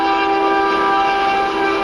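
A passing train blares its horn in a loud, steady tone that holds without a break, drowning out everything else, with no speech.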